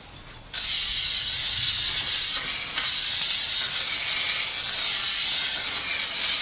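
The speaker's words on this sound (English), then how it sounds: "go ahead and spray a few coats" A spray can of primer gives a steady, loud aerosol hiss that starts abruptly after a brief pause and runs continuously, with a slight dip midway, close to the listener.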